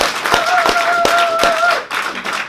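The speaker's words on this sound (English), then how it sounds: "That deserves a round of applause." A conference audience claps for a guest speaker, a loud near patter of hands with a few sharp individual claps standing out. A steady whistling or feedback tone runs under the first part, and the clapping dips briefly before resuming.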